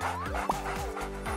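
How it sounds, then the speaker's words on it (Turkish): A dog barks several times in quick succession, short yipping barks with a rising whine between them, close and clear with no talk. "Köpek sosisin kokusunu aldı."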